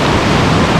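Continuous loud roar of a high, fast-running river on a morning, a dense, even rush of water with no pauses and no voices.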